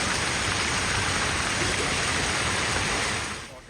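Heavy pre-monsoon rain pours down over flooded Kochi city, a loud, dense, continuous roar of falling water that fades near the end.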